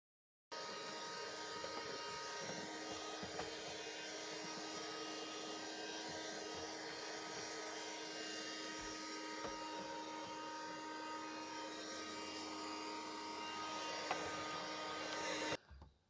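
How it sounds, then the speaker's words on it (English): A vacuum cleaner hoovering the inside of a boat, a continuous steady whine and roar held at constant level for about fifteen seconds before it cuts off, with no voices. "the boat is full of spiders' webs, so the next thing to do is to hoover"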